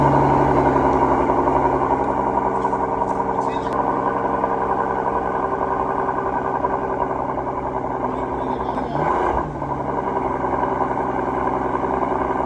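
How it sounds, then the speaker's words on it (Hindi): A Mercedes S65 AMG V12 engine idles with a deep, steady rumble, close by, with a brief rev near the end. "अगर आपको मैं गाड़ी का साउंड सुनाऊं तो वो भी आप चेक कर लें।"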